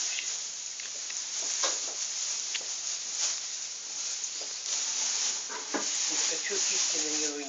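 Food frying in a pan, a steady crackling sizzle that holds throughout at moderate level, with a few clinks and soft kitchen sounds mixed in.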